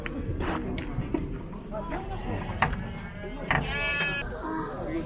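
Ewes bleating at a livestock market in Zharkent, several calls rising over a steady crowd hubbub with people talking nearby.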